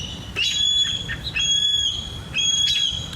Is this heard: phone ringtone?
no